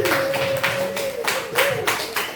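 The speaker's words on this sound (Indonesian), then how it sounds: "Beri tepuk tangan dulu dong Bapak Ibu." Scattered clapping from a small audience at an Indonesian training session, uneven and light, with bursts of claps over a steady murmur and a background tone, no clear speech.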